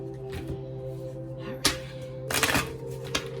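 Tarot cards being shuffled at a table, a few soft riffling bursts and brief papery flicks at close range over a steady low hum, no talking.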